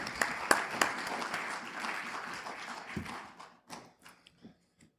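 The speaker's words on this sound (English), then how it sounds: "let's give Mark a round of applause" Audience applause for a guest at a live talk event, a dense burst of clapping that thins out and fades into scattered claps near the end, with a voice briefly heard over it.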